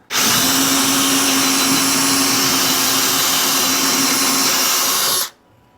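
A power drill whines at high speed, boring into welds on a Jeep TJ body, one loud continuous run of about five seconds that cuts off abruptly, with no talk.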